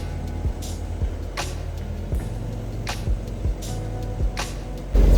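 A small sailboat under motor sail, its engine droning steadily beneath the wind, with occasional low thumps and rattles of the hull and rigging and brief whooshes of air.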